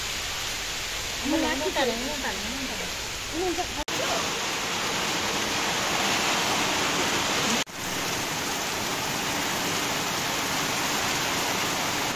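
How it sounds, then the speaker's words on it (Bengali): Steady, heavy rain pours down outdoors in a loud, even hiss that runs throughout, with a voice speaking briefly over it near the start. "বৃষ্টি এসে গেল, এসে গেছে, এসে গেছে"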